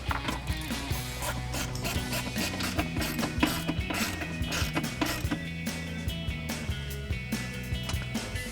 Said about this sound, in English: reinstall our original bolt and tighten it down with our 10mm socket